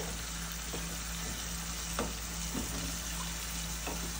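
Potatoes tossed into a fried spice masala in a pan for an okra-and-potato chorchori, giving a steady, moderately loud sizzle with a few sharp stirring clicks and scrapes scattered throughout, with no voices.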